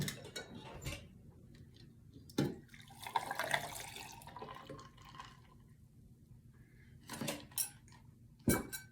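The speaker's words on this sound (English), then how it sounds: "now we are going to pour our delicious concoction into our cup" Iced coffee drink poured into a cup filled a third with ice, giving watery splashing and trickling bursts with clinks, close and fairly quiet, in a home setting.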